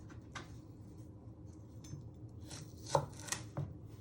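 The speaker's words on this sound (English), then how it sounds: "you first get your spring onions together, you chop your ends off" A knife chops through spring onions on a cutting board, with a few sharp, separate cuts near the end of a quiet kitchen scene.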